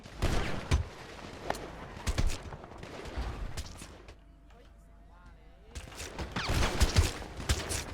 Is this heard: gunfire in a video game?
yes